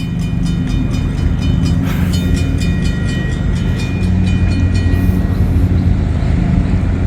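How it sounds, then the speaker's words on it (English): A CSX freight train rolls past a railroad crossing, a loud steady rumble and clatter close by with an old mechanical crossing bell ringing in the background. "But there is a train coming. I can hear it right now."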